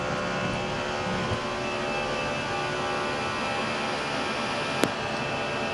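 Brussels Airlines Airbus A319 or A330 jet engines roaring steadily at takeoff power, heard from inside the cockpit as a loud, constant broadband rumble with one brief sharp click near the end.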